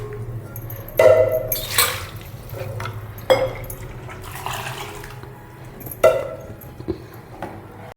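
Water splashes into a metal pot in a few bursts for a chicken curry with ground spices, coconut, poppy seed and tomato, with clinks and drips between pours and a low hum underneath.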